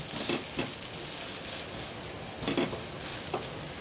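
A beetroot dosa roasts on a hot pan after being flipped, giving off a soft, steady sizzle broken by a few light taps and scrapes, quiet and close with no voices.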